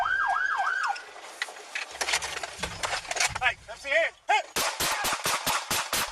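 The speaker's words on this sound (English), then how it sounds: "he exits the vehicle and opens fire." Gunfire from a Fort Worth police pursuit: a siren wails at first, then a burst of sharp, loud shots rings out in quick irregular succession, ending in a rapid volley of close, cracking reports.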